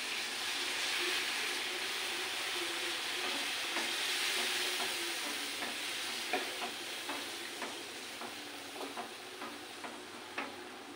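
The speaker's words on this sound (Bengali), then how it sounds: "এবারে জল দিয়ে দিচ্ছি।" Water goes into a pot of food sizzling on the stove, making a steady close hiss with small crackles and light taps scattered through it.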